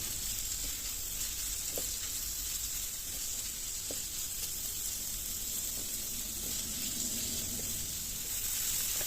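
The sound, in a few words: sautéing onions with a pinch of salt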